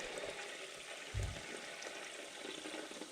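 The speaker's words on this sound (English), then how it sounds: "So down through the paint strainer it goes." Heavy 140 weight gear oil poured through a paint strainer, a faint continuous trickle and pour with a brief louder glug partway through, quiet and close.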